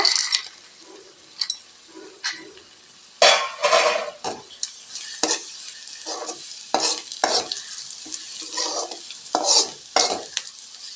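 Cashews being stirred into thick carrot and jaggery halwa in a pan, irregular scraping spoon strokes and clinks against the metal over a faint sizzle, close and alone without speech.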